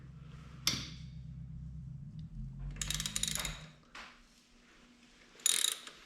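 Ratchet wrench clicking while loosening the swing arm bolt on a Moto Guzzi motorcycle, a few short bursts of close ratcheting with gaps between, no talk.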